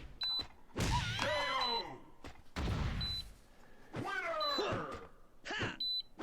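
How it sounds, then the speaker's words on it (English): Short, thin electronic beeps from a controller repeat a few times amid loud thumps, whooshes and rising tonal bursts of game-like effects. "It's beeping."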